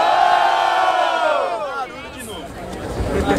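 A crowd at a Brazilian rap battle in Barueri roars and cheers loudly in a sustained wave of shouting and whoops that gradually fades into scattered crowd noise.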